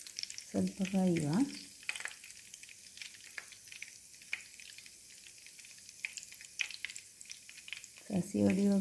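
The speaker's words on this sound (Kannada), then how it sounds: "ಸಾಸಿವೆ ಹೊಡೆಯುವಾಗ ಪಟ ಅಂತ ಸೌಂಡು ಬರ್ತಾರೆ." Mustard seeds crackle and pop in hot oil while chicken masala is being cooked, a sizzling bed scattered with sharp little pops, with brief voices at the start and end.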